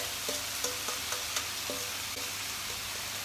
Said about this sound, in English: I'm going to pop that in. You can hear a big sizzle.